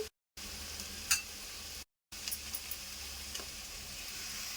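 Chili powder being stirred into a frying boti curry in a pan, a steady soft sizzle with a few scraping clicks of the spoon, broken by two brief silent gaps.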